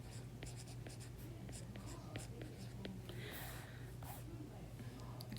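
Pen strokes on a math worksheet, writing in purple: quiet scratches and ticks in short irregular bursts close by, over a steady low hum and faint breathing.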